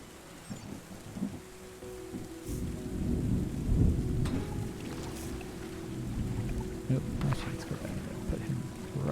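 Rain and rolling thunder from the video game Terra Nil, a low rumbling storm bed with steady rain hiss that swells midway and holds, plus a few sharper clicks on top.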